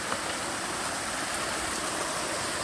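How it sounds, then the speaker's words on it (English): A small waterfall on the Bonita Falls trail in the San Gabriel Mountains of Southern California gives a steady, dense rush of falling water, close and unbroken, with no voices. "Here is some kind of waterfall"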